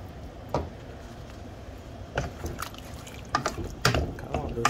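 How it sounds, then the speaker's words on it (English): A splash of water goes into a pan of simmering sticky pork belly, giving a few distinct pours and drips over a soft bubbling bed, with a voice talking alongside. "I think I need to add a little more water"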